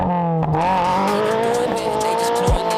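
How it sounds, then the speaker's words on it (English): A 2022 Toyota GR86 with an HKS aftermarket exhaust revs hard and loud, its exhaust roaring and rising in pitch as it accelerates, with a brief shift-like drop and tire squeal. "We got this exhaust installed. It's time to see what she's got."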